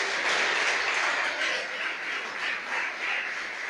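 A church congregation applauding during a worship service, a continuous dense wash of clapping that swells and eases slightly, with no voices standing out.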